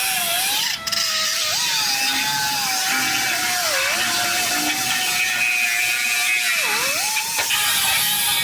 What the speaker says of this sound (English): I'm just gonna cut this cross member in half and get this out of the way